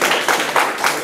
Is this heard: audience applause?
yes